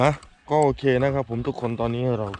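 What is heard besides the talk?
None of the usual background noises is heard.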